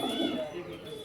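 A male Punjabi pigeon gives a brief, low cooing call close by in a loft, with a faint voice in the background.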